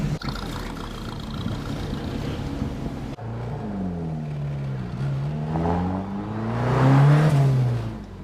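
A Mk1 Ford Escort fitted with a Cosworth YB turbo engine accelerates hard on the road, its note rising and falling through the gears and climbing to a loud, strained peak, heard from inside the car.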